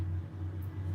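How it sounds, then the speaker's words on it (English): A big truck passing on a nearby road, heard as a steady, loud low engine rumble that holds evenly for about a second with no talk over it. "hold on, there's a big truck passing. I don't know if you guys could hear the traffic going by."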